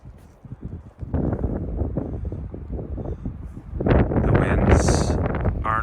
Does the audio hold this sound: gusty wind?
yes